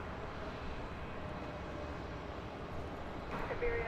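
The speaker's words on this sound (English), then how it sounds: "That plane landing after a 10-hour and 56-minute flight from España" Airbus A330 landing at DFW at night after a long flight from Madrid, a faint steady engine rumble at a distance that rises slightly near the end.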